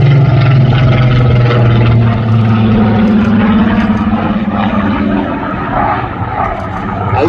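A Spitfire's piston engine roars during an air display at the Midlands Air Festival, a loud, sustained propeller drone that slowly shifts in pitch as the fighter passes, with no voices.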